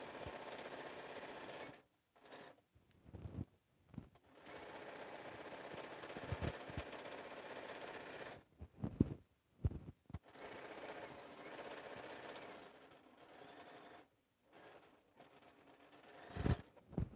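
A sewing machine stitches fabric pieces for a slouch bag in several sustained runs, with short pauses and small clicks between the bursts of steady mechanical whirring.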